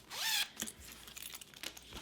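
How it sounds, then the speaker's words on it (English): A zipper on a clear vinyl picnic pouch is pulled open in one quick rasping stroke, followed by faint handling rustles and light clicks nearby. "Let's open up our zipper all the way."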